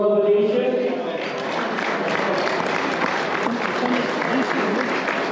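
An audience applauding the staff at the Royal Venetian during a hockey Hot Stove event in Aurora, Canada, a loud sustained round of clapping from a crowd that starts just after a voice and continues steadily.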